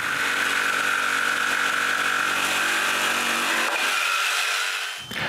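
A band saw cuts through a wooden base in a home woodworking shop, a loud steady whine holding evenly for several seconds before the blade slows and the cut ends.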